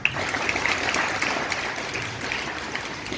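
An audience at a welcome ceremony claps together, giving a dense, steady wash of applause at moderate distance that continues evenly throughout, with no voices over it.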